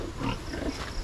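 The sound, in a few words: pig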